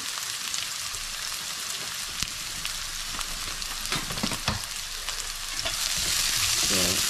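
Onion frying in a pan at home: a steady, close sizzle with occasional stirring clicks, swelling louder toward the end.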